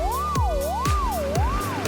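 A cartoon ambulance siren wails in a children's vehicle song, rising and falling in a steady, loud, continuous cycle, accompanied by rhythmic musical thumps.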